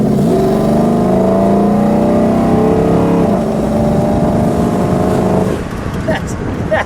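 A 1960 Chrysler 300F convertible with a 413 engine revs hard up close, a loud rising growl that climbs then drops and settles toward idle near the end.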